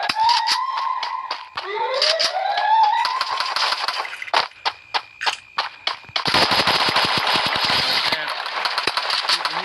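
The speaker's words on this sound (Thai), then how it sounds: "โอ้ปืนลั่น" Gunfire in a video game: rapid machine-gun bursts and crisp single shots, loud and close, with rising whistling effects early on and a dense barrage of shots in the final seconds, with some voice underneath.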